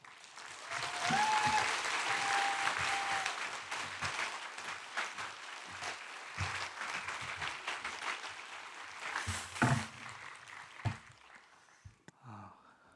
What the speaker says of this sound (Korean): 말씀 주실 때 나오실 때 뜨거운 박수로 맞이하겠습니다.